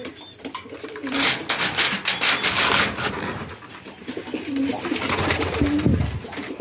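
Pigeons coo softly and steadily inside their coop, with close rustling, scraping and wing movement mixed among the low murmuring calls.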